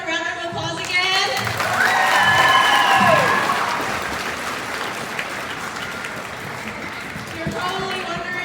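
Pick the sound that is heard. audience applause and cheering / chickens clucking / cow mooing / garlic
audience applause and cheering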